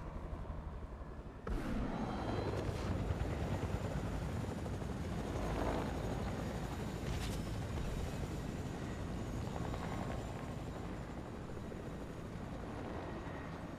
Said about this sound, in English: What the fuck is this heli doing?